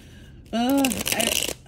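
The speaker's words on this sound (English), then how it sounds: "I'm going to shuffle these up real good" Tarot cards riffle and slide in a quick burst of crisp shuffling up close, partly overlapped by a voice talking.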